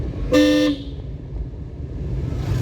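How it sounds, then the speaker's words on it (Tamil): A single short car horn toot blares loudly, then fades into steady road and engine noise. "ஹாரன் அடிச்சுக்கணும்."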